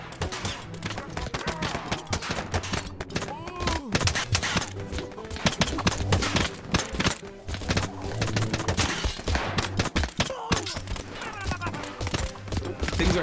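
Chaotic battle in Totally Accurate Battle Simulator, with dense bursts of machine gun fire crackling and popping throughout amid thuds and clatter. A voice comments over the constant rapid gunfire.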